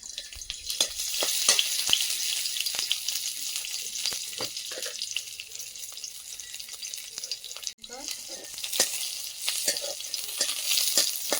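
Chopped garlic fries in a little oil in a wok, a steady bright sizzle running throughout with scattered sharp spatter pops and clicks, close and fairly loud.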